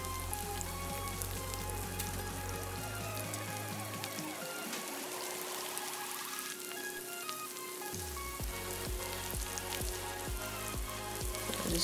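Food fries in a hot pan with wet ingredients, giving a continuous crackling sizzle and scattered sputtering pops, with a low hum that drops out partway through.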